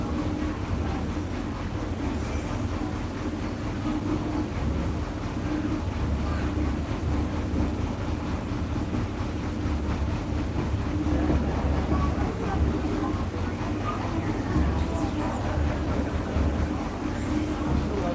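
A train rolls along with a steady low rumble and faint rattling of the cars, a continuous background drone heard from inside.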